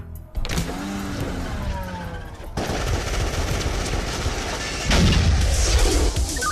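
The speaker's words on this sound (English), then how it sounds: "we have an ongoing shootout at 24th and Northwest Street" A gunfire shootout from the action comedy film Kung Fury: a dense burst of loud shots and rapid automatic fire breaks out after a brief opening sweep and carries through to the end, with a heavier blast near the five-second mark.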